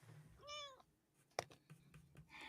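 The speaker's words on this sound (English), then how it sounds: "Plaintive cat noises." A cat gives a single plaintive meow, soft and close, followed by a brief knock and faint rustling in a quiet room.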